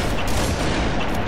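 Dense gunfire in a video game rattles as a loud, continuous barrage of overlapping shots and booms, ending in a sharper crack.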